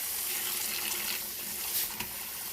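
Water runs steadily from a newly fitted kitchen tap into the sink, a continuous close hiss of flow that holds even for a couple of seconds with a slight surge near the end.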